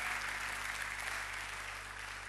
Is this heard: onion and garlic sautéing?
no